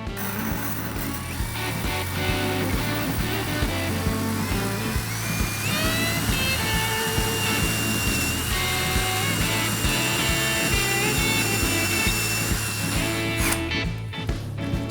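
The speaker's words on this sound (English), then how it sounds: "we're gonna go on low speed with the drill and moderate amount of pressure, and we'll just drive right through this" A power drill runs on low speed through ceramic tile during a shower remodel, giving a steady, continuous whining grind that stays close and loud for the whole stretch before easing off at the end.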